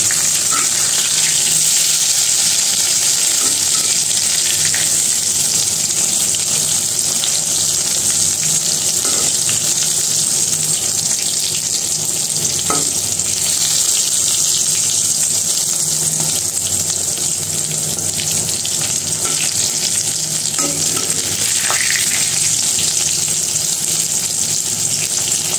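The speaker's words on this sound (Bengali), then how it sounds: "আসলে বেগুন ভাজা হতে বেশি সময় লাগে না" Eggplant slices sizzle as they fry in a pan, a steady close hiss running alone with faint watery clinks and occasional stirring touches throughout.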